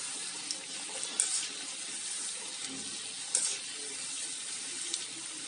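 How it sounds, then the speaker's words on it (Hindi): Toffee-shaped namakpare fry in oil over a low flame, giving off a steady, even sizzle with a couple of soft clicks and pops. "दो दो तीन तीन चार चार करके इसे फ्राई करेंगे लो फ्लेम पे।"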